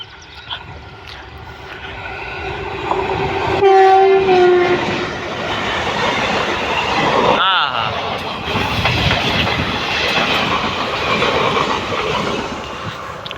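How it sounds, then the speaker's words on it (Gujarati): A train approaches and rushes past loudly, its horn blaring in a couple of strong blasts, wheels clattering as people talk nearby. "ત્યાંથી ટ્રેન આવે જોવો જોરદાર"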